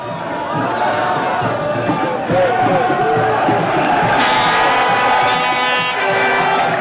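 Iranian football fans of Esteghlal roar in a stadium during the 1991 Asian Champions final against Al-Hilal, a dense loud crowd din that swells midway, with a commentator talking over it.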